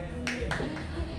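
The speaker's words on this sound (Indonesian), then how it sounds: "Ya, kita beri tepuk tangan" Applause from a gathered crowd at a ceremony handing over office from the old board to the new one. A dense wash of many hands clapping at once, with swells of louder clapping running under continuous background noise.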